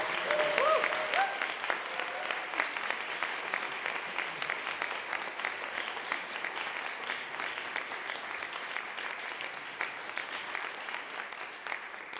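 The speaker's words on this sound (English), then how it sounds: "So, please give a round of applause." A concert audience at a brass quartet performance breaks into sustained applause, dense and steady for the full stretch with no pauses, loud and enveloping as if heard from within the hall.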